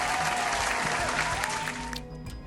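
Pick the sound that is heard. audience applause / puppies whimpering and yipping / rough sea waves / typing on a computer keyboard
audience applause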